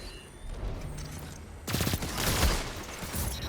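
Pulse rifle firing in a first-person shooter game, a burst of rapid loud shots cutting in abruptly after a quieter stretch of ambient game noise.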